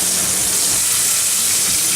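Fish for a fish curry fries skin-side down in a hot pan, giving a steady, close sizzle and hiss that holds evenly for two seconds with no voices.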